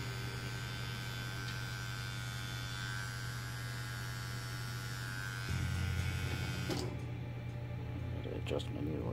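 A tattoo machine running steadily, a continuous low electric buzz with a constant drone that shifts pitch slightly partway through, close and moderately quiet.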